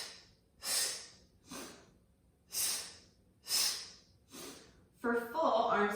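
Breathing during an exercise routine, with several forceful exhales and inhales of a single person spaced about a second apart, close-miked, followed by a burst of voiced sound at the end.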